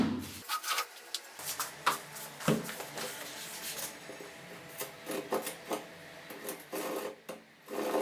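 Rasping strokes of a hand saw cutting two wooden boards to length for an industrial-style table base, irregular back-and-forth bursts continuing steadily throughout with no talking.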